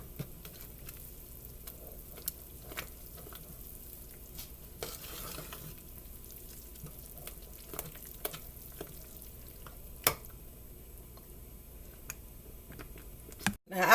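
A chayote chowder with red and yellow peppers and cornmeal being stirred as it cooks: a long run of soft spoon scrapes and light clicks over a quiet simmer, ending in a louder clatter.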